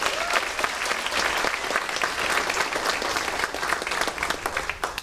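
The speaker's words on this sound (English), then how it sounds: "If we could give one really big round of applause for Bob Lee and the May Day Task Force" A large crowd at a May Day festival dinner claps loudly and continuously, a dense wash of applause that holds steady throughout.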